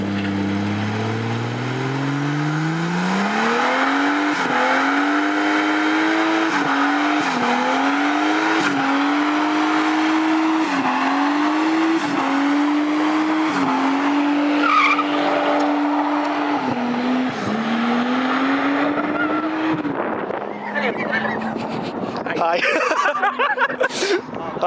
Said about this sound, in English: That was the best burnout I've ever seen in my life.